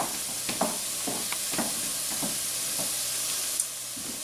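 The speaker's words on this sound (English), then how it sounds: "I'm going to give those a little stir" Vegetables, okra among them, stirred in a hot pan, with a steady frying sizzle and hiss under a handful of soft scraping strokes, close and unbroken throughout.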